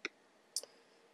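Two sharp computer mouse clicks on a PC, close and distinct, about half a second apart in a quiet room.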